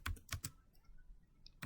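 Quick keystrokes on a computer keyboard, three close clicks in a burst and then a pause before another tap, quiet and with no voice, while switch port security commands are entered.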